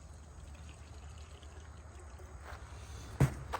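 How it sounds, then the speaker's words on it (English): Distilled water pours steadily into a radiator coolant overflow tank of a 2006 Land Rover Range Rover with a soft, continuous trickling wash, ending in a brief louder splash near the end. "I'm going to pour some distilled inside."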